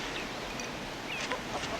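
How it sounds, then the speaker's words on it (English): Backyard chickens clucking in Moscow, a few faint, scattered calls over a steady low outdoor hum, with no voices. "Chickens, Mr. Ambassador?"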